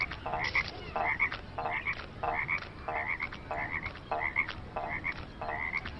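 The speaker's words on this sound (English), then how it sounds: "Thankfully they sound like frogs." Frogs in the Disney Magic Kingdoms game croak in a regular repeating pattern, paired bright croaks recurring roughly every half second over a soft background, close and clear with no talking.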